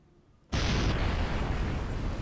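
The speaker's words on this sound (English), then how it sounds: "big huge explosion again" A jet plane crashes and explodes in the game Kerbal Space Program: a sudden loud blast after a brief quiet lead-in, then a sustained roaring rumble that holds steady.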